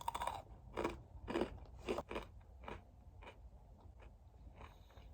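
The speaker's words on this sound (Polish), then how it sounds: "Te precelki smakują słono, ale słodko w tym samym czasie i są mega chrupkie." Crunchy pretzels are chewed close up, with loud crisp crunching bites at first that fade into softer chewing over about five seconds.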